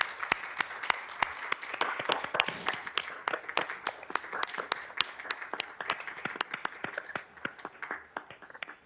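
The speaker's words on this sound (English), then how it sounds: "So let's give him a big round of applause," Applause at a city council meeting: a steady run of scattered hand claps from a modest group, moderately close, thinning and fading toward the end with no talk over it.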